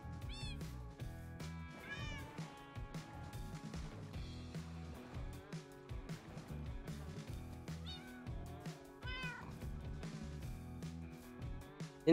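Cats in the video game Minecraft meow repeatedly, with many short rising and falling mews that overlap into a steady chorus, moderately loud and close, with no talk over them.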